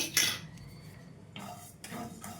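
Fenugreek and cumin seeds roasting in a pan on medium flame, stirred by a spoon: a few close metallic scrapes and clinks against the pan, fairly quiet, with no voices.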